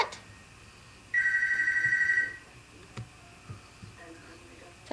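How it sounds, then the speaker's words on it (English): A telephone rings once, a single electronic trill lasting about a second, followed by quiet room noise with a faint click and soft voices. "Is that the phone ringing?"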